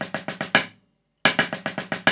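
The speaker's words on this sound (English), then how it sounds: "So if I play a paradiddle diddle there, then it's going to sound like this." A snare drum plays a paradiddle-diddle pattern as crisp, fast sixteenth-note strokes in two bursts separated by a short pause, with heavier accents in the groups. The strokes are close and loud.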